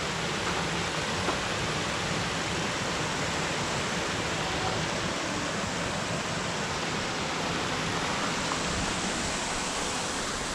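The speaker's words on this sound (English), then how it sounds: "a little waterfall. Very nice, well made it." Small garden waterfall in a park, a steady dense rush of falling water, constant and fairly loud at close range, with no voices.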